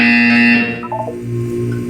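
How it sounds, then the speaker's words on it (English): A Portal 2 video game buzzer sounds as a steady, loud electronic tone lasting about half a second, then fades into quieter synthetic game tones. "You will hear a buzzer."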